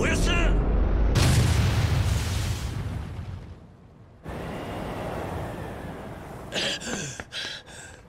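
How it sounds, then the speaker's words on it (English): A grenade blast in Yakuza Kiwami booms loudly at the start with a long rumbling decay, followed by a second heavy burst and scattered crackling debris near the end. "Oh no, there's one more grenade."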